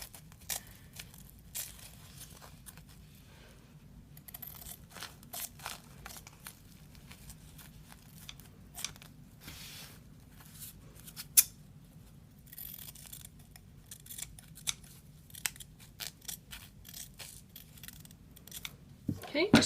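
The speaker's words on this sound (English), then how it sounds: "You'll need some good scissors to cut all the way through the diaper." Scissors snip and crunch through a thick, crinkly diaper in a steady series of cuts, with faint rustling between strokes.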